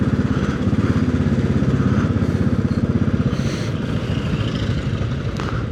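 A Royal Enfield Classic 500 motorcycle is ridden on the road toward Matlock Bath. Its single-cylinder engine thumps in a loud, steady, rapid pulse with faint wind and traffic around it.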